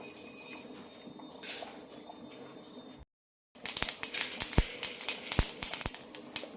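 Mustard seeds spluttering in hot coconut oil in a kadai: after a quiet gap, a dense run of sharp, irregular pops and crackles close by, growing busier.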